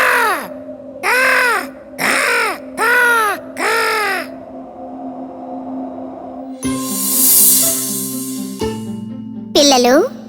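An animated crow caws loudly five times in a steady rhythm, each call harsh and close, followed by a brighter burst of cartoon sound effects and a final short squawk.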